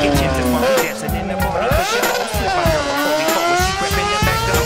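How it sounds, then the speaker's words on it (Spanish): Car cross racing cars at a hill-climb race roar past with high, shifting engine whines, loud and continuous, with a crowd or commentary murmuring underneath. "Ahora podemos divisar al primer Car Cross."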